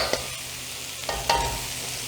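Rice tipped into a hot pan for vegetable fried rice and stirred, with a few sharp scraping and tossing knocks over a steady soft sizzle.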